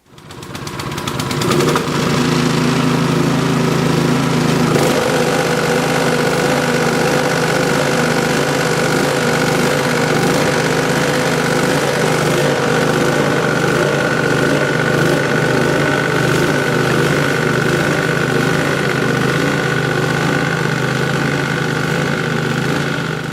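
A modified snow blower engine runs steadily and loudly for the whole stretch, a close, constant mechanical drone with a rough, buzzy tone and no voices.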